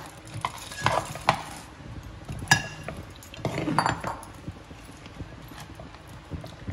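Groundnuts tumbling into hot sugar syrup in a pan for homemade chikki, followed by clinks and scraping as a spoon stirs against the metal, close and fairly loud with light sizzling.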